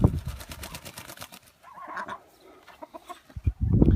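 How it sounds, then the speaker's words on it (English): Silver laced Wyandotte chickens from a breeding trio clucking and murmuring close to the microphone in short irregular calls, with soft rustling and movement sounds around them. "Here's my silver lace Wyandottes, the breeding trio over there."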